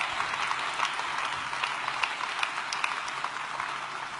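Crowd applause at an Elizabeth Warren speech on working families' economic security, a steady wash of many hands clapping at moderate level, fairly distant and even throughout with no talk over it.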